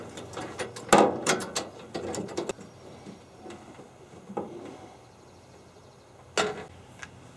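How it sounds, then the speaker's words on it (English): Metal threads clicking and scraping as a regulator is screwed into the socket of a Coleman LP camp stove, model 5430B700, with a few irregular close ticks and rattles in a quiet room. "You screw the regulator into this little socket over here"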